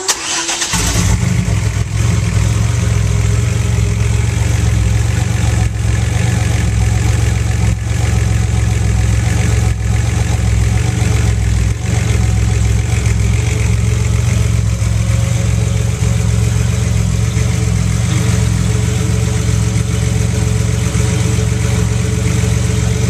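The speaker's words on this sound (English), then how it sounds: "I'll actually start the car here so you can hear it run" A Buick with a Bailey Engineering TR6 ignition system cranks and fires up, then settles into a loud, steady idle that runs close and uninterrupted for the rest of the clip.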